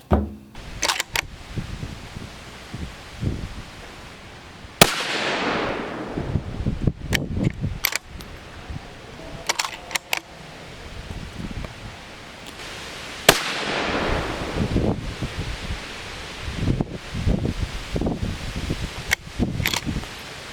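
A Ruger American Predator Gen 2 rifle chambered in 6mm ARC fires handloaded ammunition at an outdoor range. Two loud, sharp reports ring out with long echoing tails, scattered among lighter clicks and handling noises.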